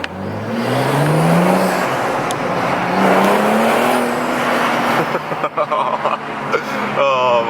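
A BMW M235i fitted with a performance intake revs hard, its engine note rising and falling in loud sweeps, then breaking into sharp pops and bursts near the end, with someone talking excitedly over it.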